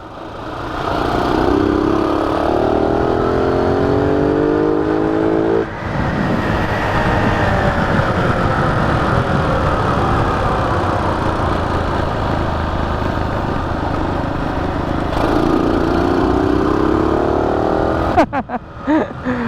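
A Yamaha Sniper Classic motorcycle engine hums steadily while riding along a road, with rising notes as it accelerates in two stretches and a constant rush of wind and road noise; no voices.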